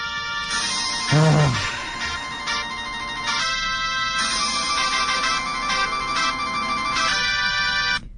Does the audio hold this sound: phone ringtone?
yes